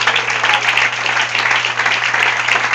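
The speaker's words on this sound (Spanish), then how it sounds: "Dale aplauso" A church congregation claps together at a Spanish-language worship service, producing a steady, loud wash of applause that holds for a few seconds with no voices on top.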